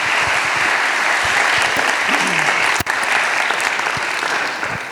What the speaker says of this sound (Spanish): quiero darles un aplauso y que le demos un aplauso a ellos